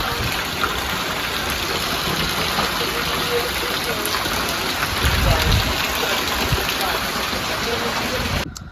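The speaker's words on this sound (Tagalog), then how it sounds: "lakas ng ulan tapos ang hangin ala ulan niya" Steady heavy rain from Typhoon Uwan pours in a dense, constant hiss with strong wind, swelling briefly in a gust midway before it cuts off.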